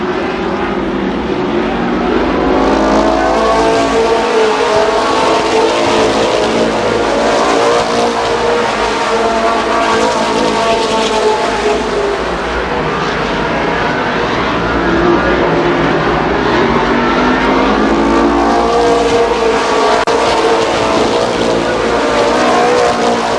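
Sprint cars race around Columbus Motor Speedway, their engines roaring loudly and continuously as the pack circles, the pitch swelling and falling as cars pass close by.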